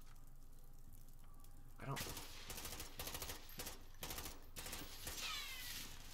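Rapid gunfire in the Call of Duty: Modern Warfare campaign, dense bursts of shots over several seconds mixed with game effects, with a player talking over the action.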